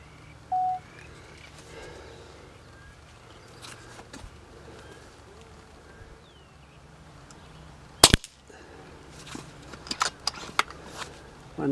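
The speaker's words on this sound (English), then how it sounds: "we got the FX Crown set up and we're ready to shoot it at 25 meters" An FX Crown air rifle fires one sharp, loud crack at a 25-meter target, followed by several smaller mechanical clicks and knocks against a quiet outdoor background.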